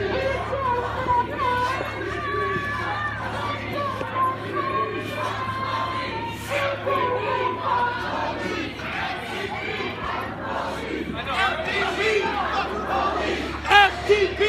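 A protest march crowd chants loudly and continuously, with many voices shouting in rough unison, and cries rise above the mass of voices in a busy outdoor street setting.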